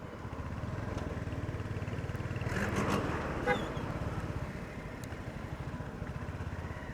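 A Royal Enfield Hunter 350 motorcycle is ridden steadily, its engine a low, even, pulsing drone heard from the rider's position with wind rush, fairly quiet and continuous.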